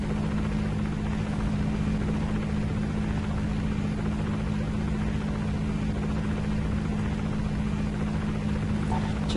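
Bombers flying overhead in the video game Hostile Waters make a steady, loud, droning engine hum with a strong low throb. It runs continuously with no voices.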